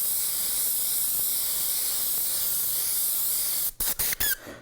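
An airbrush sprays gray paint onto a T-shirt in a steady, close, airy hiss that lasts several seconds. It then stutters into short sputtering bursts and a few squeaky clicks as it stops and starts.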